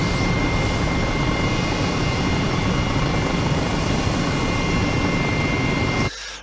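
A helicopter flies over the former RAF Carew seaplane and airship base, a loud, steady rotor and engine roar filling the whole recording before cutting off abruptly near the end, with no voices.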